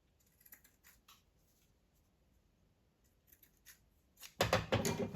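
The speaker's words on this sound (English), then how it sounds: "I'll trim off the threads." Small sewing scissors trimming loose threads from a pressed fabric piece: a few faint, close snips spread across the moment, then louder rustling of handled fabric at the end.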